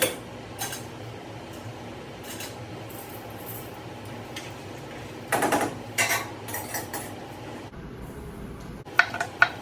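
Lobsters being stirred in a cooking pot give off scattered metallic clanks and scrapes of varying loudness over a low kitchen hum, with sharper knocks near the end.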